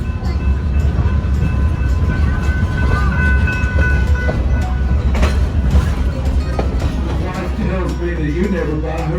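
Heber Creeper historic excursion train of the Heber Valley Railroad rolling on rails, loud continuous rumble with rhythmic clatter of wheels and squealing metallic tones, close by, with voices talking over it.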